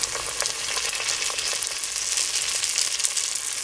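Apple wontons fry in hot oil with a steady, close crackling sizzle and scattered pops, continuous throughout with no talking.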